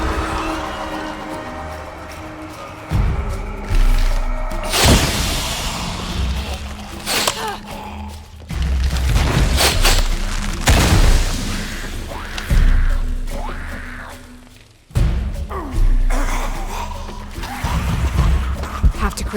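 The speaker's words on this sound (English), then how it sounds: "Have to create an explosion." Explosions and crashing impacts in the Shadow of the Tomb Raider video game, with several loud bursts and debris clatter at irregular intervals over a rumbling game soundscape.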